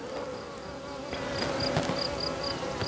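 Honeybees buzz close by in a continuous insect hum, with individual bees droning past and fluctuating in loudness, near a beekeeper handling a queen.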